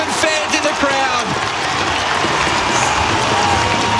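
A stadium crowd of 54,000 Australian football fans at an Adelaide versus Collingwood match applauds and cheers in a dense, continuous roar beneath a commentator's voice.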